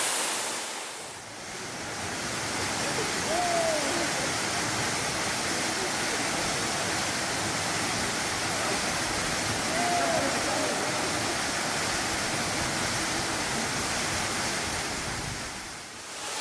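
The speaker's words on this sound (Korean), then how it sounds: "정말 웅장하고 멋진 폭포 아닌가요?" Jaein Falls in Yeoncheon, South Korea, pours in a constant, dense roar of falling water, close and loud throughout, with faint bird calls peeping through.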